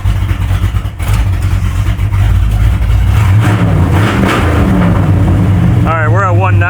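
A project car's engine runs loud and close as the car makes its first movement, a steady low rumble throughout with a brief whistling tone near the end.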